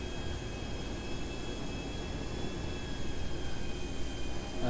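Large military Titan cargo plane in GTA 5, its engines giving a steady, loud broadband roar that holds level throughout and swells slightly near the end, with no talking.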